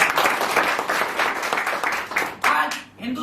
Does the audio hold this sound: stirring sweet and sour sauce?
no